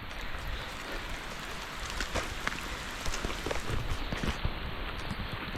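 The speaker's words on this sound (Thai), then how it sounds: "ฝนก็มาแล้วตอนนี้" Rain falls outdoors during a wild boar hunt, a steady dense patter of drops on surfaces with some wind noise, moderately loud and continuous without talk.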